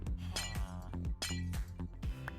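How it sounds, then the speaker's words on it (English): A glass block shatters in Minecraft, a few short bright clinking breaks standing out over a busy, steady game background with music-like tones. "Let's not waste a glass. and break our way in,"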